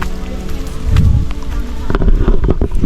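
Rain falling steadily on a muddy road in Candelaria, Quezon, heard as a continuous wash of broadband patter that swells and fades, close and fairly loud, with no voices over it.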